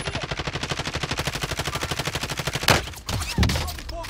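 Rapid automatic gunfire in Call of Duty Warzone, a steady stream of loud close shots for nearly three seconds, then a few heavier bursts and impacts.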